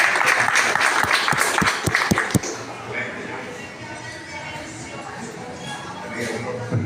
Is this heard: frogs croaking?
no